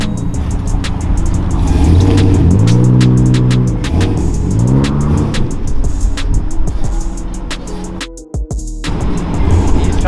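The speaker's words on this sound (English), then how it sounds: "He's trying to rev it like it ain't working." A car engine on a downtown Houston street revs repeatedly in rising and falling sweeps, loud and close over steady traffic rumble, with a brief drop near the end before the engine noise returns.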